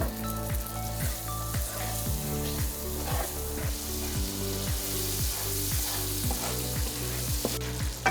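Butter hitting melting sugar in a pan for cherry caramel, giving a steady bubbling sizzle with rhythmic popping that stays even and close throughout.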